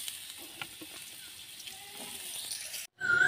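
Potato pieces and drumsticks (sajne data) frying in hot oil in a pan, a soft, steady sizzle with light stirring clinks, ending in a brief cut and then louder spitting oil.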